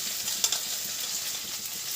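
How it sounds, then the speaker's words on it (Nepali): Fenugreek seeds crackling in hot oil for a Nepali chicken wowchiva, a steady close hiss of frying with small pops and one sharper crackle burst, no talking. "स्टार्टमा तेल हालेर अदुवा पहिला मेथी पड्कायो"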